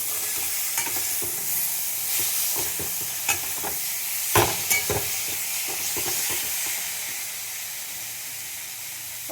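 Ingredients for moong dal with fish head sauté in a pan with a steady close sizzle and hiss, broken by a few scraping stirs.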